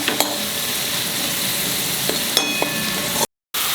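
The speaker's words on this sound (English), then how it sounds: "Let the onions be fried till it loses its raw flavor" Onions frying in a pan, a loud steady sizzle with occasional faint clicks, cut briefly by a moment of silence near the end.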